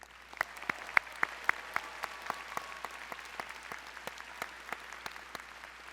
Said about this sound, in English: So let's cheer all of the people in your network who helped you accomplish what